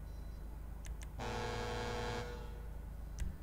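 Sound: car horn honking in video game GTA 5

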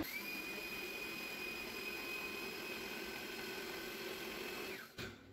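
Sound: blender grinding rice

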